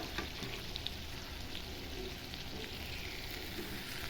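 Loitta fish frying in a pan with masala while a spatula prods around its edges, a soft, low sizzle with faint scraping, quiet and steady.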